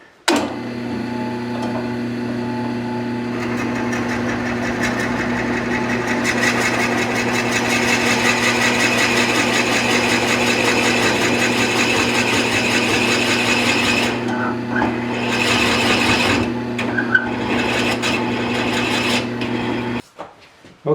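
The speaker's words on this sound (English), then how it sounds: "Now all I gotta do is set my drill up in the right place." A drill bores holes into a walnut and holly coin cup, running as one steady whirring, grinding drone for about twenty seconds, then stopping abruptly. A few faint knocks come near the end.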